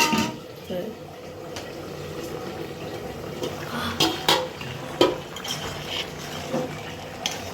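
Cauliflower, bean and rohu fish curry stirred in a pot, with intermittent metal spoon clinks and scrapes against the pot over a steady low kitchen background, with a voice talking throughout.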